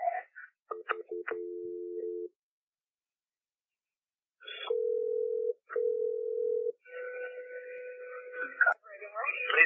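During a 911 emergency call being transferred to the fire department, steady telephone tones sound in separate bursts with gaps of silence between them, followed by brief speech-like sounds over the line.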